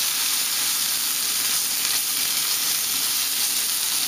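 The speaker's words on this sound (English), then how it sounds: "going to sear it on both sides, and then we'll turn it down" Wild pork steak searing in a very hot pan, a loud, even sizzle and hiss running constantly with no talking.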